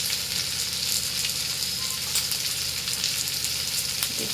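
Turmeric powder sizzling in hot frying oil while cooking a Bengali katla fish curry, a loud steady crackling fry with occasional stirring scrapes and no voices.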